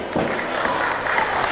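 A crowd applauding at a wrestling match, a brief steady wash of clapping and crowd noise, fairly loud and close.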